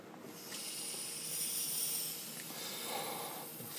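Refrigerant rushes into the high side of a geothermal heat pump compressor during HVAC charging, producing a steady, airy hiss that swells and eases slightly over a few seconds.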